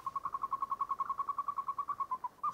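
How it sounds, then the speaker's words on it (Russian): A nightingale sings over a calm, dark sea at night in a radio drama, giving a rapid, steady run of bright clicking notes that continues alone throughout at moderate volume. "И соловей, птица кустов и деревьев, пел и щелкал над морем."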